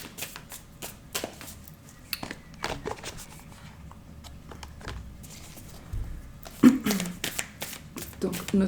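Victorian Tarot cards being shuffled by hand, soft riffling and tapping bursts, close and quiet, with a voice talking over them at times.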